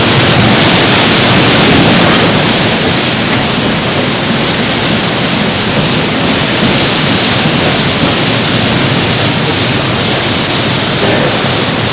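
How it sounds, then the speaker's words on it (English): High-pressure water jets blast across the surface of a hot steel slab in a rolling mill to strip off scale, producing a loud, dense, continuous roaring spray with no break and no voices. "jets of high-pressure water are directed onto the surface of the metal to clear it of any remaining scale"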